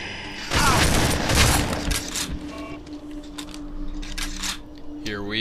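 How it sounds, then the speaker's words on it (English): A 12 gauge shotgun blast in the Red Faction video game, a loud close boom with a dense burst of rattling gunfire echoes that fades into mechanical clicks and a rising tone at the end. "So instead I'm gonna blast him with a fucking 12 gauge"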